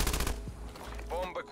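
A short burst of MG 82 machine gun fire in a video game opens the moment, then gives way to a voice talking.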